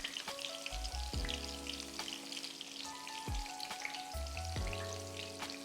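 Onion bhajis frying in hot oil on gentle heat, a steady soft sizzle and crackle with a few scattered pops and faint clinks, close and quiet, with no voices.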